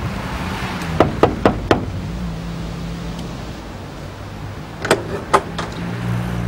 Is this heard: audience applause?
no